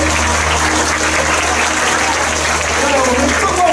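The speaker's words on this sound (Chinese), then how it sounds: "掌声。" An audience of school students and guests at an indoor anti-drug police event in Changhua gives loud, steady applause, the clapping sustained and close throughout.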